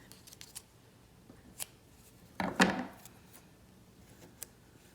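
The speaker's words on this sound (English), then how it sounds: "So now I'm going to cut this thread." Scissors snip through weaving thread on a circle loom in one short, crisp cut, preceded and followed by faint handling sounds in a quiet room.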